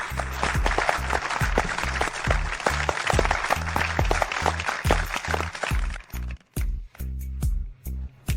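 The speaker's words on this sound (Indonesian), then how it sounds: "Mari kita beri tepuk tangan meriah untuk pemenang medali emas tahun ini, Liam Smith" An audience gives hearty applause for a gold medal winner, dense clapping layered over a pulsing musical beat, thinning out in the final seconds as the music continues with short gaps.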